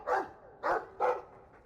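Three distinct, fairly loud dog barks spaced evenly apart, the bark of a dog in the fantasy video game Dragon Age II, with no talking over them.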